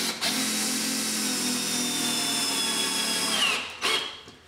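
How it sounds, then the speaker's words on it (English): Power drill driving screws into a pre-drilled timber batten fixed to a wall: one close, steady whine running several seconds, then a brief second burst before stopping. "And then we'll drive in the other three screws."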